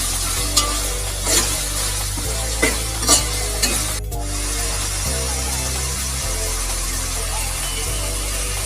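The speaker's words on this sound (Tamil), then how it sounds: "இப்போ நம்ம அரைச்சி வச்ச இஞ்சி பூண்டு வெங்காயம் பேஸ்ட்டு இப்போ போட்டு நம்ம மிக்ஸ் பண்ண" Ground ginger, garlic and onion paste stirred in a hot pan for tomato chutney, with a steady sizzle throughout and a few sharp scraping clinks of the spoon against the pan early on.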